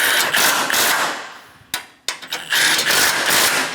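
A ratchet snugs down 13mm bolts on the front bumper impact absorber of a 2011 Dodge Durango. Fast clicking runs come up close, broken by a brief pause and a few sharp clacks before the clicking starts again.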